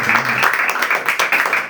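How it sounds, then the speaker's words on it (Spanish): Short burst of clapping from a church congregation applauding God during a Bible sermon, close and uneven with distinct individual claps and a faint voice mixed in. "Dar un aplauso a Dios"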